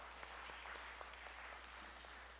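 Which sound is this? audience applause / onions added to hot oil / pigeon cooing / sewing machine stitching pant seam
audience applause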